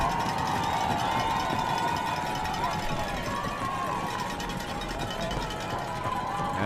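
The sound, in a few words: Bonham home crowd rising and cheering at high school football game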